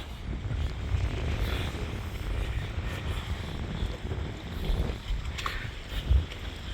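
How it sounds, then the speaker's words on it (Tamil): Wind gusts across a beach and buffets the microphone in a steady low rumble with faint rises, moderately quiet and with no voices. "காற்று அடிக்குது"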